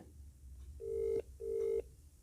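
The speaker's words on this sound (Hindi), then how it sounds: "घंटी जा रही है" Two evenly spaced tones of a phone ringing back, each about half a second long and clear over a quiet background.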